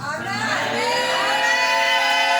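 Church congregation shouting and cheering loudly in reply to a preacher during a service, a sustained crowd roar of many voices with whoops, close and continuous.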